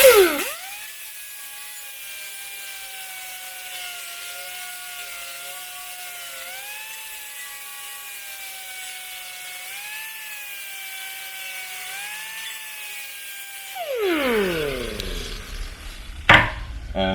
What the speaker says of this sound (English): And obviously this is an angle grinder. It's the fastest way to sharpen a blade